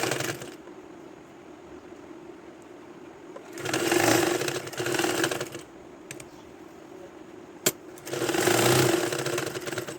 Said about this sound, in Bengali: এখানে আমি ডাবল সেলাই দিয়েছি, কারণ এটার সেলাইটা একটু ভালোভাবে দিতে হয়।